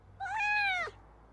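A single clear cat meow from the video game Life is Strange: Double Exposure, drawn out for most of a second and rising then falling, heard alone against near silence.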